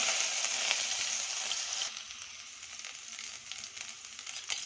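Mustard seeds, cumin and ginger sizzle in hot oil for a Kannada-style green gram gravy. A bright, steady frying hiss carries close and alone, easing slightly after the first two seconds, with small pops and crackles scattered through.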